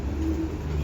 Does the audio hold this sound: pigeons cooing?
yes